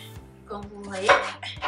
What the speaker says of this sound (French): je coupe ma tomate, je coupe grossièrement